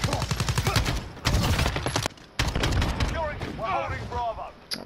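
Bursts of rapid automatic hip-fire in Call of Duty Modern Warfare crackle close and loud in repeated strings with short gaps, while a player talks excitedly over the shooting.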